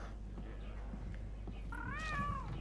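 A cat meows once in the Monster Hunter World video game, a short rising-and-falling call near the end over a low game background hum and faint scattered noises.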